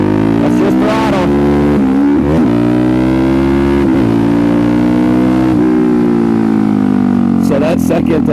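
A Suzuki DRZ400SM motorcycle engine revs on the throttle, loud and close, with rising and falling engine tones and brief sharp blips between longer steady pulls.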